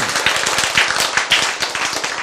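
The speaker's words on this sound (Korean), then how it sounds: "박수" Dense, close audience clapping during a church sermon, a steady, even patter of many hands sustained for a couple of seconds without a break.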